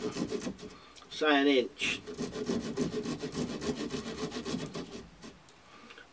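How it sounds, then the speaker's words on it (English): A hand saw cuts through thin wooden sticks while building a Norwegian deadfall snare, with steady back-and-forth rasping strokes heard close up under intermittent talk. "Now, if you've got a saw on you, cut them off."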